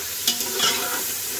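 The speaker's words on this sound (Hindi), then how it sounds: "तकरीबन 5-6 मिनट तक हमने गोश्त को इस तरह फ्राई करते रहना है।" Beef pieces stir-fried in a pot for a tinda gosht curry, a steady close sizzle with a couple of sharp stirring scrapes near the start, no voices.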